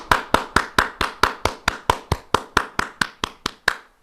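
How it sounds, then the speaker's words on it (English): Steady hand clapping from one person in an online Toastmasters meeting over Zoom, about sixteen sharp claps at an even quick rhythm, close and fairly loud, with no talking. "We really miss these claps."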